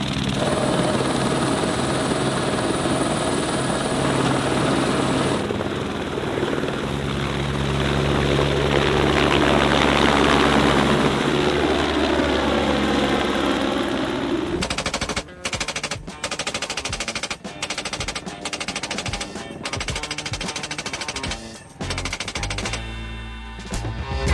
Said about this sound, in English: We're going on a helicopter ride.